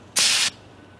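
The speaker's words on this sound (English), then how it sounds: "This can contains about 7 seconds worth of spray and can spray between 20 and 30 feet." A single sharp hiss of bear spray discharged from a pressurized can, lasting about a third of a second, loud and close, then cutting off abruptly into quiet background.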